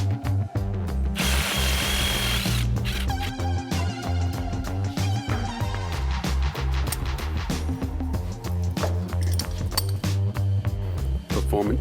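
A power tool bolts brake parts onto a Ford Fairlane. It whirs and ratchets loudly and continuously in close bursts, with a harsh high burst near the start.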